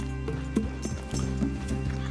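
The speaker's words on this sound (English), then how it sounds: "That's a strong-looking horse." Hooves clip-clop at a steady walking rhythm from a horse in Red Dead Redemption 2, moderately close over a low droning background, no talk.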